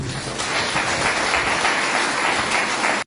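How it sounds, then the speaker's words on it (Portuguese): A church congregation applauds during a Sunday family service, a dense, even patter of many hands clapping at steady volume before cutting off abruptly at the end. "Você pode aplaudir a Jesus."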